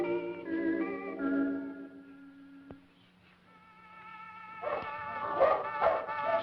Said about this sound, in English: the little doggy doesn't like that violin music and starts barking